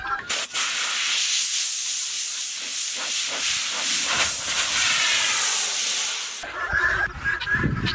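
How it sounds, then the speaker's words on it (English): A compressed-air nozzle blasts old sawdust off a wooden tabletop, giving a loud, steady close hiss for about six seconds before it cuts off abruptly, followed by light clattering. "I'm just going to blow it off with a little compressed air to get the old sawdust out of it"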